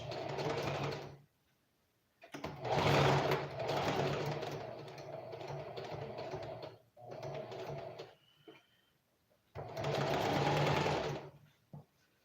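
A sewing machine stitching an elastic band onto pants runs in several steady bursts of rapid mechanical whirring, close and clear, separated by short pauses.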